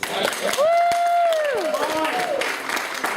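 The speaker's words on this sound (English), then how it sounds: "I would like for you to please meet Pascal and give him a round of applause" An audience at a student presentation applauds while a voice lets out a long, gliding whoop above the clapping, the crowd noise holding steady throughout.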